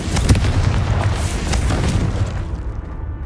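Confringo fire spell exploding in the Hogwarts Legacy video game, a heavy low boom with a rumbling, crackling tail that rolls on for a few seconds before thinning out.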